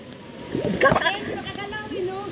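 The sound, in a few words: rushing water splashing during river rafting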